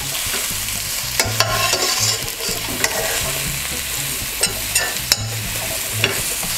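Garlic and mushrooms fry on low heat in a pan for a pasta dish, with a steady close sizzle and the scrape and knock of a utensil stirring several times, with no talk.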